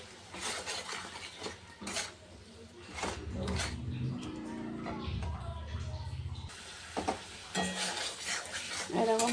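Spice paste with salt, turmeric and water is sautéed and stirred in a pan, with a spoon scraping and clattering against the metal over a soft sizzle while someone talks intermittently.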